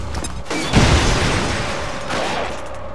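Grenade explosion in XCOM 2, a close heavy boom with a deep low thump that trails into a long rumbling, crackling debris tail, followed by a second softer swell near the end; no talking.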